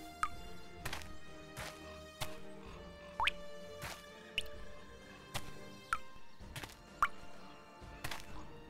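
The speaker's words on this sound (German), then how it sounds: "Ich sollte die Pflanzen gießen." Repeated splashy drips and plops of watering plants in the tavern-management game Travellers Rest, about eight irregular wet hits spaced across the clip over a low, steady game background with faint chimes.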